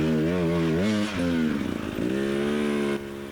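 A 2018 KTM 300XC two-stroke dirt bike, converted from a 250XC, revs loudly up close during a hard enduro race, its buzzing engine pitch rising and falling through several throttle blips before settling into a steady higher drone.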